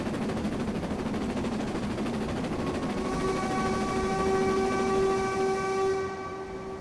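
In Train Simulator 2021, a Black 5 steam locomotive sounds a steady, moderately loud whistle for several seconds over continuous rumbling running noise as it passes through a platform without stopping.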